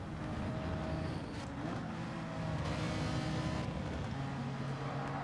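Race car engine in Gran Turismo 7 at Mount Panorama, a continuous loud engine drone that drops in pitch as the throttle lifts over a hill, then builds again, heard alone.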